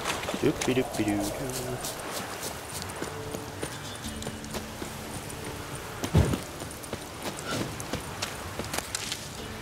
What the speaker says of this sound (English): It's gonna take a while to get there, so I'll just ride my horse.